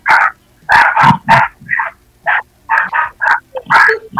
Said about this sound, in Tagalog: Yung aso nag-aaway.